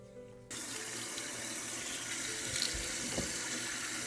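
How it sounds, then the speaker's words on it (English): Water from a bathroom sink tap gushes on abruptly and keeps running steadily as a face mask is rinsed off, a close, continuous splashing hiss with no talking. "all I have to do is just wash this off because the scrub got the mask off."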